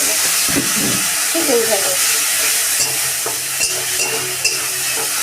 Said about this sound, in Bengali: আস্তে আস্তে পেঁয়াজটাকে কষিয়ে নেব